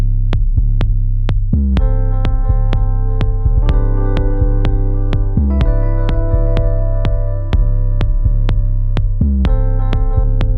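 A Rhodes electric piano plays sustained chords with rhythmic struck notes, processed with Replika XT delay and plate reverb in Logic Pro, so the repeats and a lush ringing tail carry throughout without any voices.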